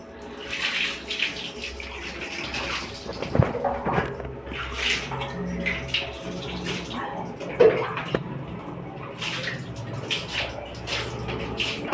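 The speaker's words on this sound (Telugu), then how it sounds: "ఫైనలీ జునాన్కి అయితే స్నానం అయితే కంప్లీట్ అయిపోయింది." Continuous running and splashing water close by as a dog is bathed, with intermittent sloshes and a faint voice now and then.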